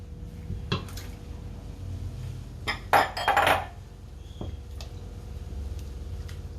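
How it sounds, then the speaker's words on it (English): Prawns tipped into a pot of simmering seafood chowder with cream give a brief cluster of clattering, splashing clinks, with a few soft utensil knocks before and after against a low kitchen hum. "you want to chuck in your prawns"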